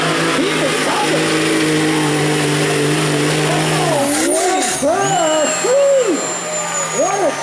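A loud diesel truck engine roars and revs continuously at a night truck-racing event, its pitch rising and falling in repeated surges, with a noisy crowd-like wash around it.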